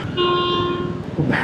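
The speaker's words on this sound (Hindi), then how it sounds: "मैं डर गया ट्रेन के हॉर्न से।" A train horn sounds close by as a train passes, one long steady blast of about a second over rumbling rail noise, with a short noisy burst after it.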